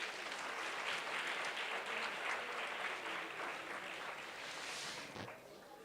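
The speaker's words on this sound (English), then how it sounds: "Give a round of applause" Audience at a university World Intellectual Property Day event applauding: a full, steady round of clapping from a crowd in a hall, holding level for several seconds before beginning to thin out.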